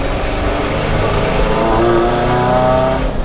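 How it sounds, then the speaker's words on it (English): An air-cooled camper van engine accelerates hard, a loud, steady close-up drone with the pitch rising gradually throughout. "Whoa, bit of foot down action there."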